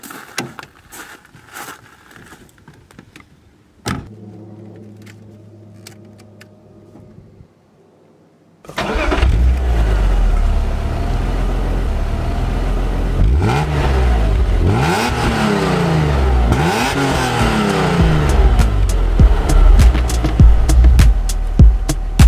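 A 1998 BMW Z3 M coupé engine cranks and catches after quiet garage sounds, then settles into a loud idle broken by repeated rising revs, heard close up without any voices.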